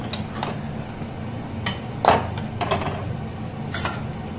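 Kachki fish curry with spices and mustard paste is stirred in a pan. Scattered scraping and clinking strokes from the utensil ring out over a steady low sizzle, close by, with no talking.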